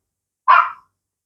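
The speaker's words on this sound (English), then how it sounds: "sorry about that dog, I'm hoping it's going to stop yapping." A single sharp dog bark rings out close by, a brief yap that fades quickly into silence.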